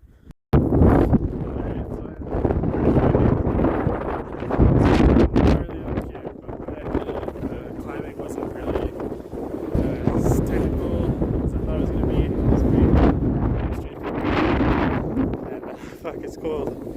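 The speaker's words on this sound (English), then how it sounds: "The wind is just fucking nuts." Strong, cold wind on a mountain hike up the Coquihalla roars and buffets the microphone almost nonstop, with loud gusting surges that briefly ease and rise again.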